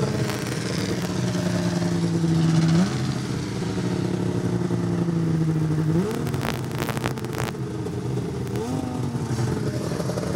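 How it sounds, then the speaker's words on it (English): A 1997 Yamaha VMAX motorcycle launches down a drag strip at a grand prix event, its engine roaring loud and close and climbing through several gear changes as the pitch rises and drops. "There goes Steve down the line in that 97 VMAX."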